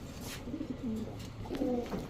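Pigeons coo softly nearby, several low throaty calls in short bursts, at a pigeon seller's loft of high-flyer Giribaz birds, with faint background hiss and no talking.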